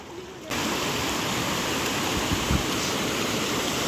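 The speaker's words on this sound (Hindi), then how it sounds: "ये देखो पूरा पानी है, ये देखिए पूरा पानी। और ये पानी कहाँ से आ रहा है?" Water rushes loudly and steadily through the channel of a gharat, a traditional water mill grinding wheat flour, a constant close roar that swells in after a brief quieter moment.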